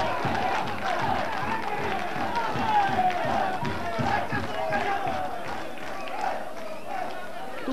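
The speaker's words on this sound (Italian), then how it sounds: "Sentirete adesso il tifo del pubblico nerazzurro." Home supporters of a black-and-blue football club roar at a 1993/94 amateur league match, Bagheria vs Messina, a loud continuous crowd din with rhythmic clapping and chanting throughout.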